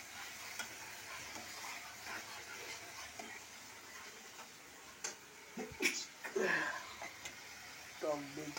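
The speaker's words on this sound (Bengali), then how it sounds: "এবার আমি টক দইটা পুরো দিয়ে দিলাম, যেহেতু নাড়বো যাতে ফেটে না যায়" Sour yogurt is stirred into fish kalia curry in a pan, giving a faint, soft sizzle with light scraping and occasional clinks. A person speaks over it.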